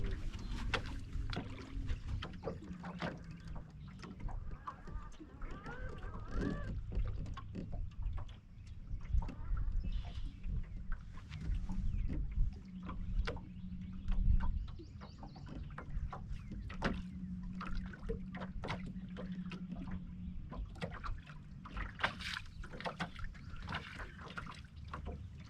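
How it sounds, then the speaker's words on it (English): An electric trolling motor on a fishing boat on Lake Talquin hums low and steady on the water, with faint splashes and light wind noise around it. "see how this trolling motor acts"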